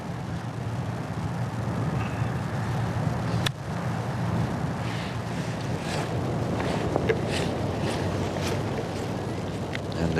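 Wind gusting across a golf course during a tournament, a constant rushing roar buffeting the microphone with no voices over it.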